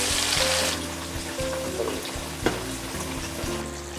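Pieces of cooked empal beef fry in hot oil, giving a steady soft sizzle throughout with a brief louder crackle partway through, no talking.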